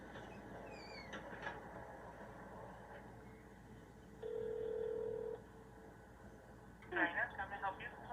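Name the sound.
telephone being dialed for a phone call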